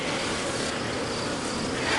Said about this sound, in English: And these are very nice bees.